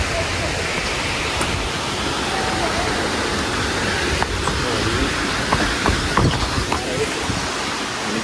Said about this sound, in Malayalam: ഇതിപ്പോൾ അതെ നമ്മൾ അരുവിക്കുഴി വെള്ളത്തിൻ്റെ ടോപ്പിൽ നിന്ന് താഴോട്ട് ഇറങ്ങുവാണ്